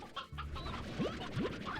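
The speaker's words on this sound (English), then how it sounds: "I guess we can at least go take the hens we're carrying." Hens cluck in the video game Slime Rancher, a busy scatter of short clucks with two rising chirps near the middle, moderately close over a soft game backdrop.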